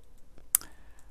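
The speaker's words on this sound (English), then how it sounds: "There is a bit of a clicking sound." A single sharp click from the ASCII dungeon game Caverns of Xaskazien stands out against near silence, with a faint tone briefly trailing after it.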